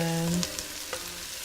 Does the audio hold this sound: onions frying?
yes